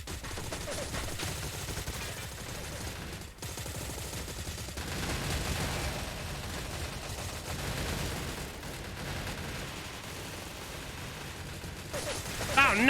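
An RPD machine gun fires in a video game, in dense bursts of rapid automatic shots mixed with other gunfire and game noise, continuous and moderately loud, with a voice talking over parts of it.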